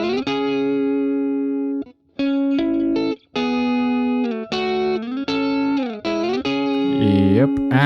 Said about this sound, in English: I use Neve 1084 of course, then Fatso to, make it more interesting, then this corrective EQ, then LA2A from UAD, and stock Reaper distortion just as a clipper